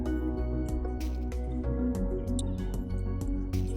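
Rain falls at an outdoor wedding at a party plot, with dense irregular drips and splats landing close by, steady and moderately loud throughout without any voices.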